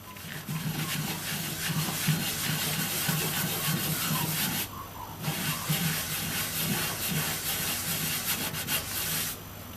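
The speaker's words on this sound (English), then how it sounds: "then I'll try just wiping it off in a circular motion." A cloth rubs in circular strokes to wipe sprayed hot melt cleaner off a surface, making a steady scrubbing hiss that stops briefly midway and then carries on close up.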